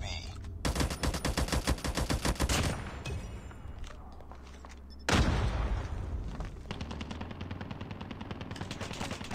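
DRH rifle tap-firing in Call of Duty Mobile: loud, close bursts of rapid shots that pause briefly, then resume in a dense rattle over other in-game battle noise.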